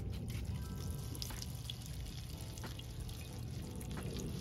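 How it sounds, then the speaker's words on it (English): Water poured from above onto passion fruit cuttings in soil, a steady soft pouring hiss with faint dribbles lasting the whole moment, quiet and with no voices. "On this first day, we can water the cutting from the top."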